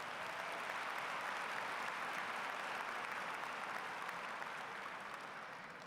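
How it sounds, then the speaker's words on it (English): A crowd at a 2023 high school graduation ceremony claps for graduating students in a sustained, dense round of applause that fades slightly at the end. "How about a round of applause for those students as well?"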